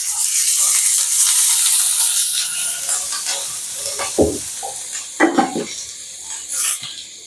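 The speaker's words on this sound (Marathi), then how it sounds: "कांद्यामध्ये आपण थोडंसं तेल टाकू म्हणजे लवकर भाजेल." Sliced onion with a little oil sizzling and frying on a hot griddle, a steady close crackle with brief stirring scrapes and clinks toward the end.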